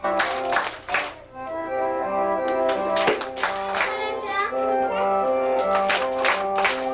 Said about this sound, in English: leads her 28 students in clapping and singing